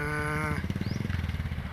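A motorcycle engine in a long traffic queue of motorcycles and SUVs, chugging in a fast steady pulse nearby after a brief horn-like tone at the start.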